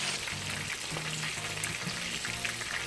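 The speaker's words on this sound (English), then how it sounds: "For extra crispness and flavor, re-deep fry them for about 20 seconds." Korean fried shrimp being deep-fried a second time in hot oil, producing a continuous dense sizzle and bubbling at steady moderate volume for about three seconds; no voices.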